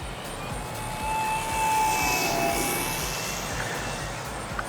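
An RC airplane on a 3300 battery hovering in the air, its electric motor giving a steady, moderately distant whine that swells slightly and then settles, heard alone outdoors.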